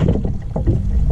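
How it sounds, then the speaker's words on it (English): Running water from a repaired garden pond fountain, a steady close wash of splashing with a faint wind-like rush throughout. "we fixed the fountain in the pond, and that's what you can hear right now"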